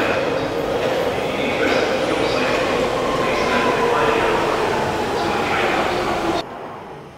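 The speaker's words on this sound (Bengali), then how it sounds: "এখানে প্রত্যেক 1 মিনিট অন্তর অন্তর ট্রেন। এই আমরা একটা ট্রেন ছাড়লাম," A London Underground train at a busy station, a loud continuous rumble and rolling rail noise with a rising whine, with voices heard over it until the sound drops off near the end.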